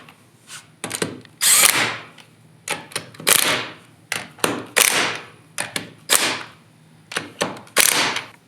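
An impact gun tightens the lug nuts on the wheel of a 2021 Honda Talon 1000R UTV in a series of sharp, loud hammering bursts separated by short pauses.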